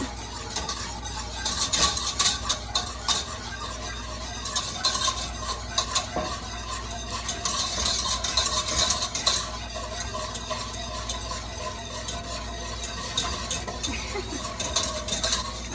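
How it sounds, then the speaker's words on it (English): A pot of cheese sauce being stirred as it thickens on the stove, with a steady scraping and stirring texture, faint sizzling and occasional utensil clinks against the pan, close and continuous with no talk. "now I'm going to cook this a little bit, make sure that I'm stirring it, and it's going to slowly thicken"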